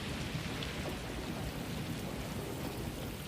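Steady rain in a video game, a continuous dense hiss of falling drops with a low rumbling undertone, even and unbroken, with no voices.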